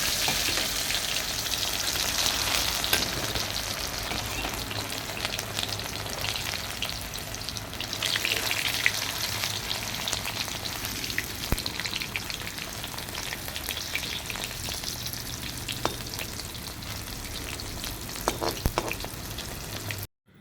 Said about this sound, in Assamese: তেল গৰম হৈ গ'ল, এতিয়া বইল কৰি লোৱা ভাত কেৰেলাখিনি ফ্ৰাই কৰি লৈছোঁ।